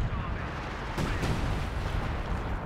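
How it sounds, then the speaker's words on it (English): Artillery shelling in the strategy game Company of Heroes 2, a steady rumbling barrage with a couple of sharper blasts near the middle, continuous and fairly loud throughout. "Nick is launching some artillery, it looks like over here."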